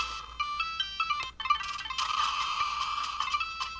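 Chiptune video game music from a TurboGrafx game played on a Powkiddy A66 handheld emulator, bright beeping melody notes in a quick rhythm at moderate volume, with no voices.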